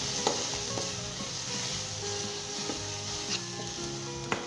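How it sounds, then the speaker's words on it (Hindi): Dal sabzi frying with fried onion and spices in a pan, giving a steady close sizzle with a few light stirring clinks, with no talking. "1 मिनट के लिए हम इसे फ्राई करेंगे इसी तरह"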